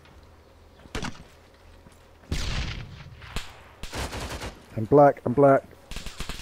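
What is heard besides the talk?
BMP armored vehicle firing in Arma 3 video game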